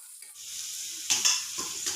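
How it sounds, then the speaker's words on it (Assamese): Vegetables and bay leaves sizzling in hot oil in a pan, a steady close frying hiss with a few brighter bursts as the pieces are stirred. "এইখিনি এতিয়া ৰঙচুৱা হোৱালৈকে অলপ সময় ভাজি ল'ম।"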